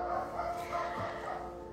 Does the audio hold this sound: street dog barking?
yes